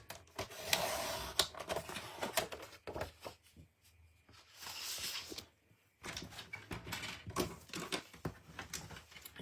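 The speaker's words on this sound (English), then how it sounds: "I am just going to cut this piece in half." A sheet of specialty card paper being cut in half gives a series of close, crisp snipping and slicing sounds in short bursts with brief pauses.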